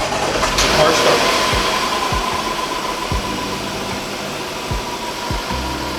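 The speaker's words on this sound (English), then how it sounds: "1, 2, 3, pushes on the start button, the car starts." A 2015 Range Rover Sport fires up by remote start and settles into a steady idle, a close engine drone with soft low thumps recurring about once a second.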